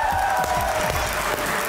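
Studio audience applause for guests Atta Tarar and Rehman Faris arriving on a Pakistani talk show, a steady, dense clapping wash with crowd noise that holds at even loudness throughout.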